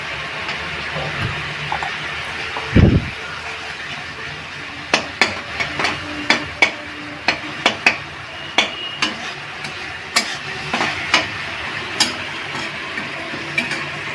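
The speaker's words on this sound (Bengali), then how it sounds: "এরকম তিল দেবেন, দিয়ে একটু নেড়ে নেবেন। একটু হলুদ দিয়ে দিচ্ছি।" Sesame seeds with a pinch of turmeric frying in a pan for a pointed-gourd dish, giving a steady bright sizzle under a run of sharp spatula taps and scrapes as they are stirred.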